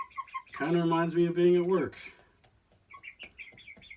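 Hens in a chicken coop cluck loudly in a drawn-out, harmonic call for over a second, with someone talking briefly before and after.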